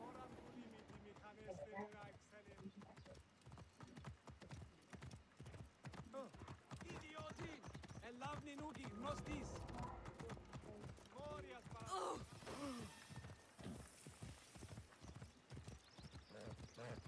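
A horse in Assassin's Creed: Origins clip-clops along at a steady rhythmic gait under ridden movement, hoofbeats continuous throughout with an occasional whinny and game sound mixed in, while a person talks over it.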